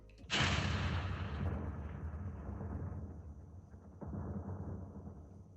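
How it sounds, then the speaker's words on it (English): An AI-generated big explosion bursts suddenly, then rumbles and crackles for several seconds, with a second deep thud partway through the long decay. "Oh man, that's a big explosion."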